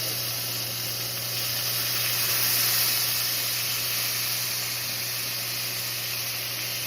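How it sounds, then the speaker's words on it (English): A steady, continuous sizzle and hiss as hot water hits a hot pan of pork chop drippings, holding at an even level throughout with a low hum beneath. "As you see, it's on sizzle."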